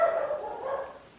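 Dog barking indoors during a casual crochet chat at home, a short sustained bark or whine heard fairly close and alone.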